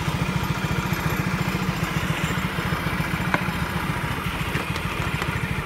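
A motorcycle engine, just back from carburetor servicing, runs with a steady rapid thudding idle pulse and faint mechanical clatter, close by, without a clear climb in revs.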